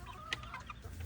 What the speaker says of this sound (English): This is the chicken area.